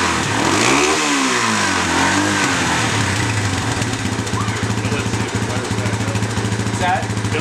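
A Raptor 350 ATV engine runs after a carburetor rebuild, with a steady, loud, buzzing drone that wavers in pitch early on before settling into a rapid, even putter close by.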